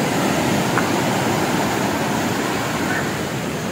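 Loud, continuous roar of sea surf crashing close by, a steady broadband wash with wind buffeting the microphone.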